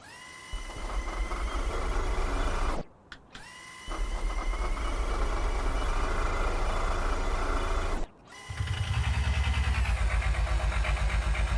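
A massive 750 horsepower V12 engine is turned over on its starter, a loud, steady whirring crank that stops twice for brief silences before resuming, the last stretch heavier and rougher.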